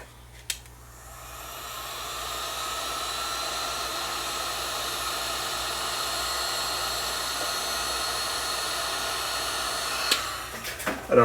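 A heat gun blows steadily on clear heat shrink tubing during a Dual 704 direct drive turntable repair, a loud continuous airy whoosh that holds for about ten seconds before clicking off, with small handling knocks near the end.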